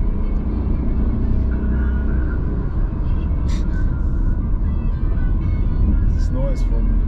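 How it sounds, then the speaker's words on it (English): Engine and road noise from a small car on a German road, a steady low rumble and hum that continues throughout, with a few brief higher noises passing over it. "This noise from motor engines. Like from very small car."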